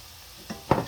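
Fresh garden herbs stirred into a sizzling pan for chicken meatballs in cheesy cream sauce give a soft sizzle, then two quick scraping stirs close by, the second louder.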